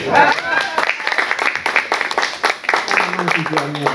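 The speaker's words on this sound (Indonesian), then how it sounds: "Tepuk tangannya mana?" Applause from a live audience at an Indonesian talk show, brisk close clapping that fades after a few seconds as a voice starts speaking underneath.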